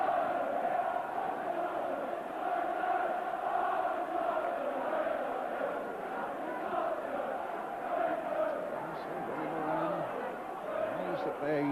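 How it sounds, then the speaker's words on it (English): A football crowd at Liverpool versus Tottenham Hotspur on a snowy Merseyside day keeps up a steady, distant roar and murmur beneath a commentator speaking over it. "That is a magnificent crowd."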